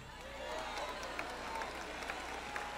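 Church audience applauding during a Spanish-language sermon, a steady mass of clapping hands at moderate distance with scattered louder claps and murmured voices underneath.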